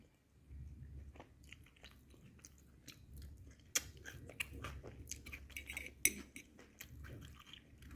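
Close-up chewing of a crunchy raw vegetable salad served with potatoes, with steady crisp crunches and bites repeating throughout and no talking.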